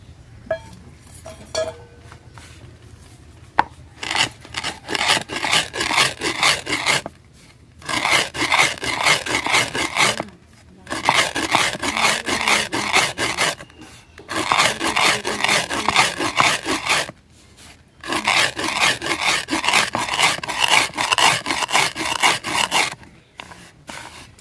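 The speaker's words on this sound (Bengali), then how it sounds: "জিরাটা ঠান্ডা হয়ে গেছে, এখন বাইটা নিমু।" Roasted cumin seeds ground by hand, likely on a stone, in rhythmic bursts of gritty rubbing and scraping, several seconds each, separated by short pauses, close and loud.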